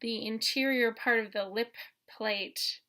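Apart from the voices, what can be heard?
No everyday noise stands out behind the speech.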